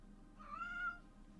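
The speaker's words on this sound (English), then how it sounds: "And why is the cat being so vocal?" A pet cat lets out a single clear meow that rises and falls over about half a second, close to the microphone in a quiet room.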